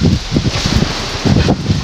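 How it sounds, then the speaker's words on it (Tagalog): Strong wind buffets the microphone in loud, irregular gusts at a corn farm during harvest, with rustling noise rising and falling over a couple of seconds. "sobrang lakas na naman ang hangin dito sa atin"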